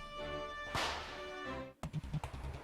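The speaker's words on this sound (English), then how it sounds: "I do like how he slaps his stomach" Gym Leader Wulfric in Pokémon X slaps his belly in a single sharp smack over game music, followed by a short run of softer thumping beats.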